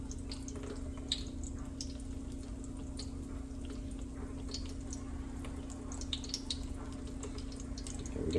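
Water drains and trickles off cooked eggplant in a kitchen for eggplant Pecorino Romano, a steady faint splashing and dripping over a constant low hum, with no talking.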